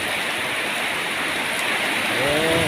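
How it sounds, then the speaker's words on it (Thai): Steady rain patters densely on surfaces, a continuous wash of hiss, with a faint brief high whine near the end. "ฝนตกแล้วครับ"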